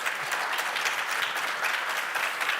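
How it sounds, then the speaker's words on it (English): Applause from a luncheon audience, dense continuous clapping at an even level throughout, fairly close and alone without voices over it. "that was a clapping moment. I was waiting for the clap"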